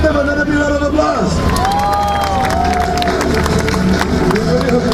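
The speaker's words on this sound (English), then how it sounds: "give them another big round of applause" A large crowd at the Navy Open House 2013 at Changi Naval Base applauds and cheers, a dense continuous roar with music-like tones running through it.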